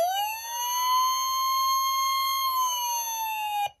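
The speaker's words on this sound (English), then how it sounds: "you get the other siren" A 2000 Hess toy fire truck sounds its siren: one steady electronic wail that rises, holds and gently falls, loud and close with no talk, then cuts off sharply.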